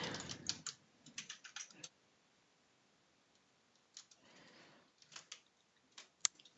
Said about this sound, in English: I just use my keyboard to change that